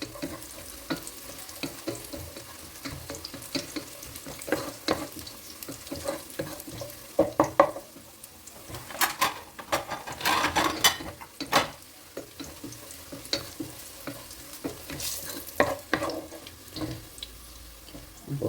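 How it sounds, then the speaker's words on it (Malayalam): Cashews and raisins frying in oil for biryani sizzle quietly under repeated clattering stirs and scrapes, with some running water from a tap mixed in, close and intermittent over the whole stretch. "ഇപ്പോൾ ഒരെണ്ണ തുടങ്ങിയപ്പോൾ ഞാൻ അണ്ടിപ്പരിപ്പ് മുന്തിരിയും കൂടെ ഇട്ട് കൊടുക്കാം"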